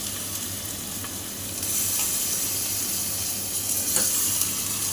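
Mutton pieces hit a hot pan of ginger garlic paste for a Telugu-style curry and set off a strong, steady sizzle. The frying noise grows louder partway through and continues close up without any voices.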